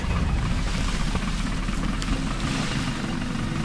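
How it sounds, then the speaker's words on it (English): Helicopter engine in Battlefield Bad Company 2 running up, a loud, steady low rumble with rotor chop and mechanical drone throughout, no voices over it. "Start the engine."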